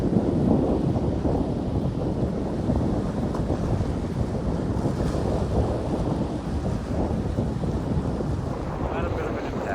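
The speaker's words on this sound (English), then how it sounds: "No less windy than Lower Richardson Lake." Strong wind roars across the mic while canoeing on Upper Richardson Lake, a loud continuous buffeting rumble mixed with water sounds that lasts throughout.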